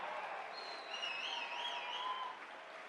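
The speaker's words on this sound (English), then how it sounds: "Come on, let's give them a hand." A crowd claps and cheers loudly for a few seconds, with a few whoops and whistles rising over the steady applause.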